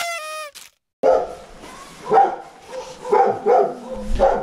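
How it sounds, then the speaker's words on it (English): Dogs bark outdoors in a town in Kosovo, several loud, sharp barks in an uneven run after a brief burst of another dog's yelping at the start, with gaps of quiet between. "there's dogs barking back"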